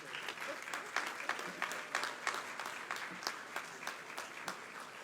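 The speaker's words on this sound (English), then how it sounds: "Give them all a round of applause." Graduation ceremony audience applauding Faculty of Social Sciences graduates at Cave Hill in 2023, a steady spread of many hands clapping with individual claps standing out, fairly quiet and distant in a large hall.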